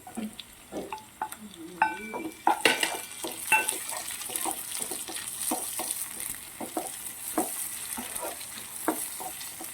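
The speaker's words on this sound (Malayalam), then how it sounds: "ഒരു തക്കാളി ചെറുതായിട്ട് അരിഞ്ഞത് ചേർക്കുകയാണ്." Chopped tomato fries in a pan for chole while a spoon stirs it, making a soft sizzle broken by repeated scrapes and light metallic clinks against the pan.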